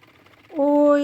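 A motor boat engine on a lake at Mukutmanipur at sunset comes in partway through as a steady, droning hum with a clear pitch, rising quickly to a fairly loud level.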